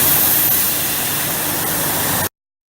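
Compressed air blasts out of an emptying truck air brake tank, a loud steady hiss of rushing air that holds for a couple of seconds and then cuts off abruptly.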